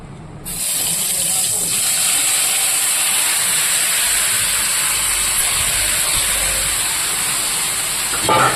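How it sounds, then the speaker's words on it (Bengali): Marinated meat hits hot oil with a sudden loud hiss, settling into a steady, dense sizzle that carries on unbroken right to the end. "মাংসটা আমি দিয়ে দেবো এই তেলে"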